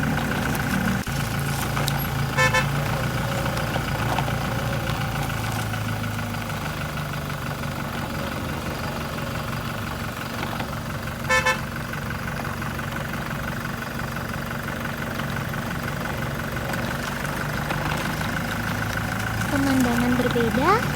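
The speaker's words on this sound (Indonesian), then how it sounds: "Truk JNT mulai berjalan melewati jalan panjang di Lampung." A JNT delivery truck engine idles and pulls away on a long road in Lampung, a steady low mechanical drone with faint knocking and occasional brief clicks, continuous throughout.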